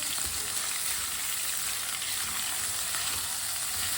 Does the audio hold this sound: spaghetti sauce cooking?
yes